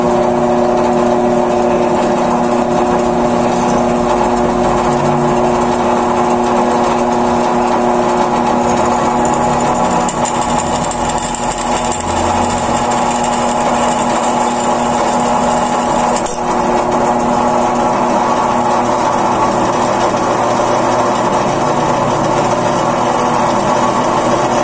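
A 1/8 drill bit bores straight through a banjo bolt, giving a steady, loud, high-pitched motor whine with a constant droning hum that holds throughout.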